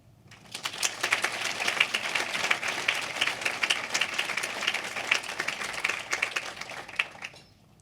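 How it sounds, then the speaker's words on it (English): Sustained applause from a banquet audience at a hospital foundation's Pink Tea and Pink Cocktail fundraiser, dense steady clapping that swells in quickly and holds for several seconds before tapering at the end. "I would really like to have a huge round of applause for all of these entities that support us"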